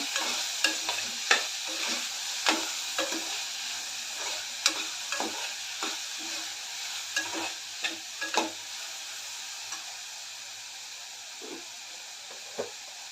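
Asafoetida stirred into a spice mixture frying in a pan, a soft steady sizzle with repeated light scrapes and taps of the spoon, fading toward the end.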